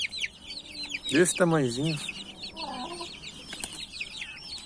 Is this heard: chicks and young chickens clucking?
yes